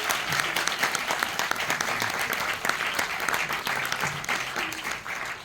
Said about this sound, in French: alors vous pouvez les applaudir bien fort.